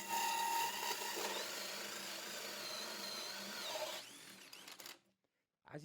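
A Festool Quadrive TPC 18/4 cordless drill-driver whines loudly and steadily while drilling for about four seconds, then winds down with a rattle, falls silent, and starts again briefly.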